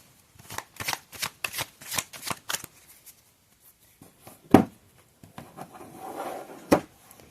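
An oracle card deck is shuffled up close in bursts of quick, papery riffles, followed by a few pauses, a soft thump and a final card snap.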